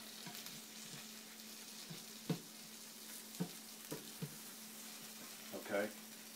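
A tortilla sizzles quietly in a hot pan, a soft steady frying hiss broken by a few faint taps and scrapes of a spatula pressing it down.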